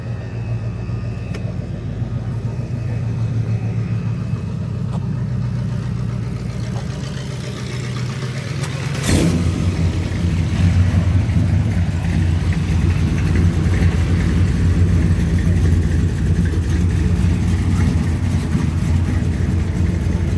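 A Ford car's engine idles low and steady, then revs up sharply and keeps running louder as it drives up at a Ford-only car meet, close by with no talk heard.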